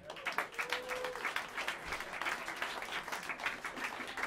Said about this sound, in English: Put your hands together and give a warm round of applause